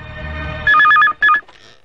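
A telephone rings in a movie scene as someone calls a hotel: a low murmur gives way to two loud, sharp bursts of electronic ringing with a short gap between them, then a faint tail.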